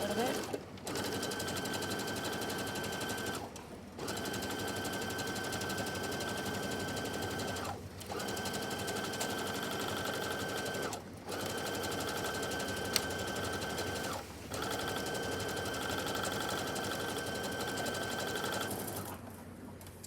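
A sewing machine stitches pants fabric in long, steady whirring runs, stopping briefly several times between seams, close and continuous.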